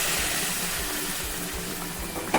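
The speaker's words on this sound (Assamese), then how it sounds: "ইয়াতে মই এতিয়া গৰম পানী দি দিম" Hot water pours into a pan of fried, sun-dried taro greens cooked with fish head and tomato, making a continuous close rushing gush with a sharp knock right at the end.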